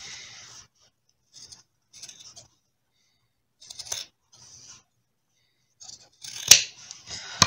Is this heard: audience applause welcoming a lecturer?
no